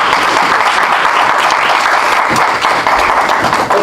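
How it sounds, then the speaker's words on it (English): A round of applause from a poetry meeting audience, loud, dense and continuous clapping filling the room from start to finish. "Let's give him another round of applause."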